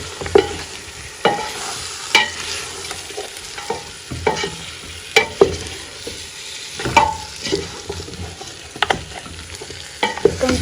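Onion is stirred through a hot pot for a trotters-and-chickpea stew, with a continuous sizzle under repeated spoon scrapes and knocks against the pot, close and fairly loud.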